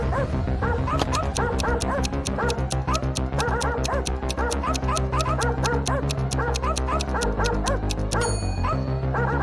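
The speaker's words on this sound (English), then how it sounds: "Barking, it ran after Eve." A robot dog barks in a rapid, dense run of loud yips and barks over a busy musical backdrop, continuous throughout.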